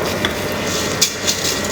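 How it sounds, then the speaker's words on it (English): Risotto rice slowly sauteing in olive oil in a pan, a steady soft sizzle with a few faint stirring scrapes, close and continuous with no talking. "We're not frying the rice, we're just slowly sauteing it"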